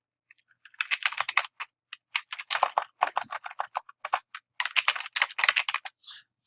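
Typing on a computer keyboard while entering alt text: a steady run of close, crisp keystrokes in quick bursts with short pauses, no voices.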